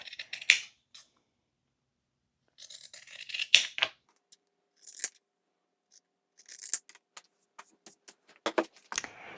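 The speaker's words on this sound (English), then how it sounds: "you're going to trim both of these seam allowances in half" Scissors trimming fabric seam allowances on a sewing project, heard as a close, quiet run of crisp snips and clicks with short silences between cuts.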